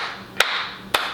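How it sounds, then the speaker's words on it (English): Two sharp, isolated hand claps from one man applauding himself, spaced about half a second apart, close and fairly loud over a faint background hum. "Clapping for himself."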